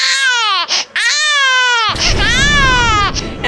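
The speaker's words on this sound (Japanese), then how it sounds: "赤ちゃんが泣いてるところからスタートなんですけども" A three-month-old baby girl wails loudly and continuously in long, strained cries with a brief gasp between them, close to the microphone, with some household rustling behind the later cries.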